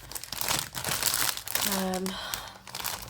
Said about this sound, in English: Like the, not tissue paper, like shredded paper.